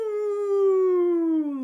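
A lone wolf gives one long, sustained howl, a clear, pure tone that holds steady and then slowly sinks in pitch, loud and close with nothing else behind it.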